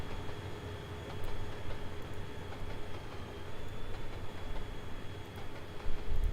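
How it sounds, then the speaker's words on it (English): A GS class steam locomotive train in the Trainz video game rolls along with a steady, low, quiet rumble and faint rail clicks, heard alone throughout. "The GS class is a really unique breed of locomotives."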